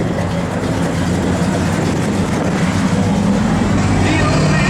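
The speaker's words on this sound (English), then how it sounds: "The car's got a good sound to it." A 1970 Pontiac GTO engine runs steadily at a low, rumbling idle, loud and close, with a constant throbbing hum throughout.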